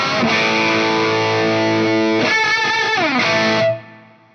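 Electric guitar lead tone run through a Line 6 HX Effects unit, a sustained distorted chord-like phrase with a brief pitch-bending passage in the middle, loud and steady before cutting off near the end.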